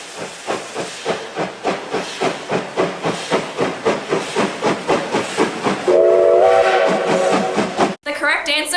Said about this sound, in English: This is actually just a recording of some trains.